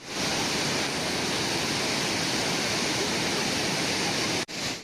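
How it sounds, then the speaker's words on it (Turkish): The Tortum waterfall in Erzurum, about 48 metres high and running at full spring flow, gives a loud, continuous rushing roar with a brief dropout near the end, with no voices. "Şelale çabuklar akıyor."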